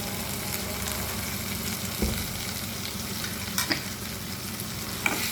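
Green chillies fry in a pan, giving a soft continuous sizzle broken by a few scraping stirs of a spoon, close and moderately quiet with no talking.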